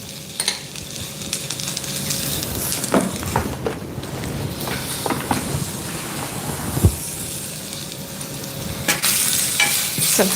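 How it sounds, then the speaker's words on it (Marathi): Raw mango pieces cook uncovered in their own juice, giving a low steady sizzle with scattered clicks and scrapes of a utensil against the pan. "आता झाकण न ठेवता कैरीच्या अंगच्याच रसमध्ये हे शिजण्यासाठी ठेवूयात"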